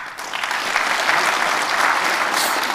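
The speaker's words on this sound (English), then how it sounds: "Give him a round of applause" A hall full of people at an annual conference awards presentation applauds Willis Graber with loud, dense clapping that swells quickly and holds steady for the whole stretch.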